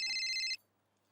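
A telephone in a family home in a Hindi sitcom scene gives one short, bright electronic ring burst that stops abruptly, leaving near silence.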